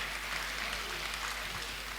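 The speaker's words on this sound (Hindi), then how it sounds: "तालियां जबरदस्त होनी चाहिए" Audience applause at a Hindi poetry recital by poet Ram Prakash Bekhud: a brief, soft patter of clapping heard from a distance, with a low steady hum underneath.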